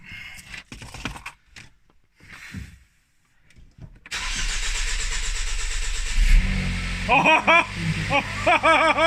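Ford Focus ST MK3 with a freshly fitted facelift engine, heard first as a starter crank that catches and settles into a loud steady idle, followed by several sharp throttle blips. Brief clatter and people talking come before the start.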